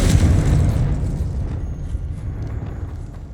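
Confringo blasting spell in Hogwarts Legacy: a heavy, booming blast that hits at once and decays into a low rumbling tail over a few seconds, with no voices.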